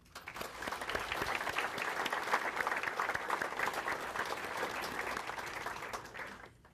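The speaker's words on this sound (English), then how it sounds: "Please join me in a round of applause for the recognition of our parents and community partners." An academic awards audience applauds parents and community partners with a full, sustained round of clapping that swells quickly and fades near the end.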